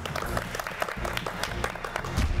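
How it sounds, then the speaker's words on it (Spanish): Applause from an audience at a comedic awards show, a busy, continuous clatter of many hands for a couple of seconds, fairly loud and close, with low crowd murmur underneath. "Un aplauso para él,"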